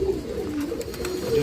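Close, continuous cooing from a group of breeding pigeons at feed and water, soft low burbles overlapping one another through the whole moment, with no speech.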